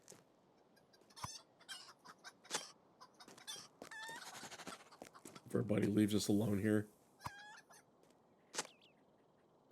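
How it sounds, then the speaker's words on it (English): Hill grouse clucking as an ambient creature in the Lord of the Rings Online game's Hatokáli Fells, brief bird calls scattered across the clip amid soft background ambience, with someone speaking over part of it. "Did you hear the chicken?"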